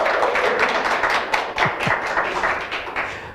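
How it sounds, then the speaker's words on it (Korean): A Zoom lecture audience claps together on cue, a dense, steady patter of many hands filling the short stretch at even loudness with no pause. "박수 한번 같이."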